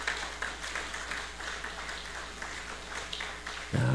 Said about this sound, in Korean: 박수 한 번씩 쫙 하시면 나오실 거예요.